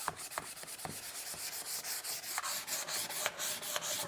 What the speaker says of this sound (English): We always want to sand with the grain.